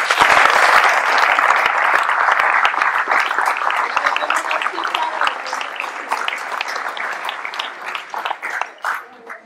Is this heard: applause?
yes